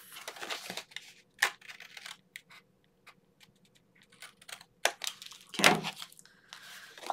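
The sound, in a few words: folding and burnishing a paper folio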